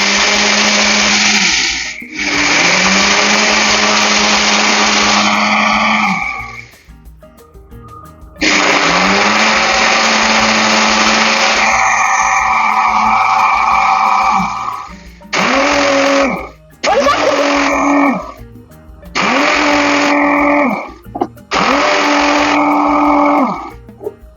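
A Silver Crest blender motor running loud and close, two long steady whirring stretches followed by four short pulsed bursts with brief gaps, each spin-up rising in pitch.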